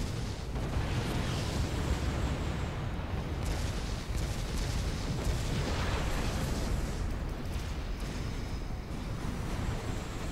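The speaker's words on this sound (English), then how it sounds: "They've destroyed all my little ships." Spaceships blowing up in a Star Trek strategy game as a Borg fleet attacks, producing a dense, continuous wall of rumbling explosions and booms that stays loud throughout with no pauses.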